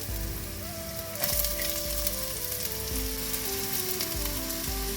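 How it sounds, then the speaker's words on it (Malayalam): Green chilli, onion and curry leaves fry in a pan with a moderate, steady sizzle. A faint tonal hum and occasional soft stirring scrapes sound beneath it. "നമ്മൾ അരിഞ്ഞു വെച്ചിരുന്ന പച്ചമുളക് സവോള കറിവേപ്പില ഇത് മൂന്നും കൂടെ നമുക്കിടാം"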